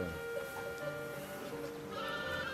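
Ewes outdoors on a mountain farm bleat, with several overlapping calls that rise near the end over a quiet outdoor background.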